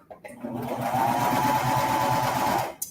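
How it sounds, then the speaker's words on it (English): A serger overlocks elastic onto the edge of leggings in one steady, loud, fast-running mechanical whir lasting a couple of seconds, starting and stopping abruptly, with no talk. "I'm going to go ahead and serge right on the edge of the elastic"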